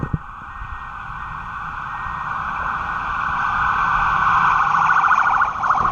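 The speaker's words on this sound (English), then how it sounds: "That's an ambulance, okay." An ambulance siren wails steadily in the distance, growing slightly louder and nearer as it continues without any talking.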